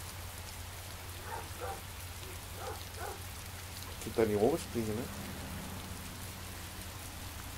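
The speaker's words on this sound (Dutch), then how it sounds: "het regent wel" Rain falling outdoors beside a garden, a steady soft hiss of drops throughout, while someone speaks briefly in the foreground over it.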